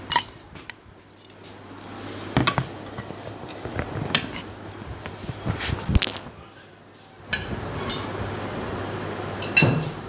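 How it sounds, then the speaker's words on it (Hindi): Shredded cabbage stirred into mayonnaise in a bowl, with a spoon clinking and scraping against the bowl in irregular taps under a soft background hum and no talking. "ये मायोनीज़ में डालूँगी मैं और इसको मिक्स करूँगी।"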